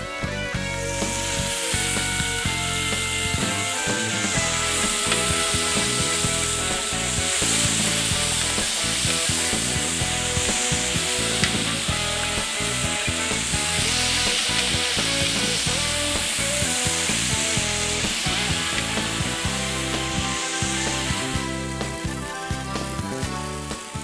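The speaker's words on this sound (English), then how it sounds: "now it's time to put some of the peppers and the onions on and get them going" Peppers and onions sizzle for beer brats, a steady, even frying hiss that continues unbroken at close range.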